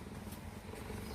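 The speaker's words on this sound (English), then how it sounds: "You can hear him purring." A cheetah purrs up close in a steady, continuous low rumble with no talk over it.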